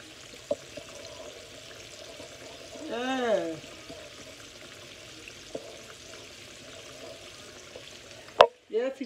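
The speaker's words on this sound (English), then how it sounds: "Listen to it over there sizzling." A soft, steady sizzle of pork chops frying in a pan hisses in the background, with a brief voice and a few clanks from utensils.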